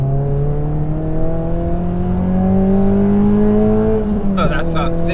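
A rare Ford Racing Puma, built on a Fiesta Mark 5 base with a naturally aspirated engine, revs in a steady, rising drone and then blips sharply, loud and close from inside the car.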